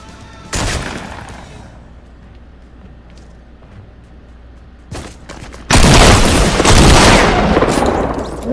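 Gunfire in the Fortnite video game: a loud single blast, a quieter later shot, then a long sustained burst of heavy rapid fire, all loud and close with no talk.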